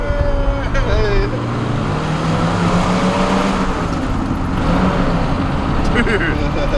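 A 1955 Ford Thunderbird's V8 engine runs loudly and close by, a dense, continuous rumble that holds steady throughout, with people talking over it at moments.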